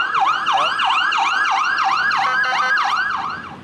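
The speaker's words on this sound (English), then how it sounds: "Accidentally just recorded a police car." Police car siren wailing close and loud in the Holy Land, a rapid repeating yelp sweeping up and down in steady cycles for the whole stretch, fading slightly at the end.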